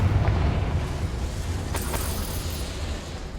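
A Confringo blasting-curse explosion in the video game Hogwarts Legacy, a loud rumbling burst that decays over a few seconds with crackling debris.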